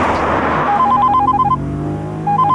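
A telephone rings in short repeated electronic chirps that come in bursts. The ringing plays over low engine-like background noise and stops briefly before starting again.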